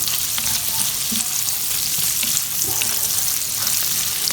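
Turmeric, fenugreek and other spices fry in a pan over full high heat for a chickpea and potato curry, giving a steady, close, broadband sizzle with faint stirring scrapes throughout.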